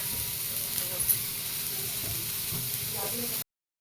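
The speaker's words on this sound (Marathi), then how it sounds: "असं थोडंसं पालती उलटं करून भाजून घ्यायचं चांगलं व्यवस्थित" Tomatoes and green chillies roast in a hot pan for a Maharashtrian thecha, giving a steady close sizzle and hiss with a few soft scrapes and knocks as they are turned.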